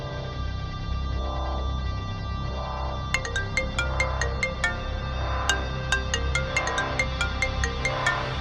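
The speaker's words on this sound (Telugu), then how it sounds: "నేను ఇప్పుడే ప్రసన్నకి కాల్ చేస్తా." A phone rings on a call, a repeating electronic ringtone of bright chiming tones in a steady rhythm over a low background hum.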